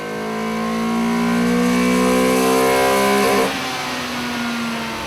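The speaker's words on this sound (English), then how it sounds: "we chucked the little guy on the dyno to see what sort of power the engine was making" A turbocharged Honda CRX engine on a dyno revs hard and high under load, holding a strained, rising whine before dropping back to a lower steady drone.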